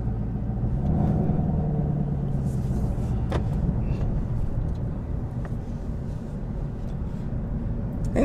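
Low, steady engine rumble from a 2022 Chevrolet Camaro ZL1, heard from inside the car as a continuous deep drone that holds fairly loud throughout, with a slight swell near the start and at the very end.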